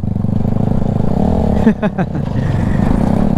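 A steady adventure motorcycle engine drones loudly throughout, with a brief burst of clatter midway and no clear speech over it.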